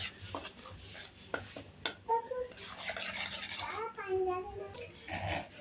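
Red chilli, coriander, garam masala and homemade black masala are stirred in hot oil for a chicken dish: metal spoon scrapes and clinks against the pan and a soft sizzle under someone talking.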